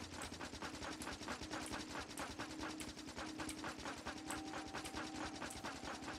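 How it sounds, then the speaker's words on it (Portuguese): Rapid machine-gun fire from a player-versus-player match in the Factorio video game rattles in dense, continuous bursts over mechanical game noise, fairly quiet in the mix. "Caramba, que troca de tiro."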